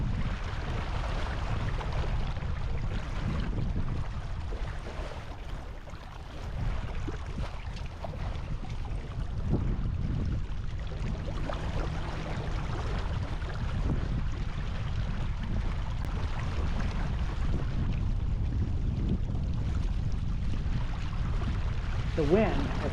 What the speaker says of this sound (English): The wind has picked up to over 15 miles per hour.